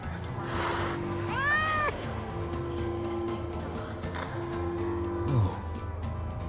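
A cat in the video game Wuthering Waves gives a couple of drawn-out, rising and falling meows over a steady ambient music bed, fairly close and clear.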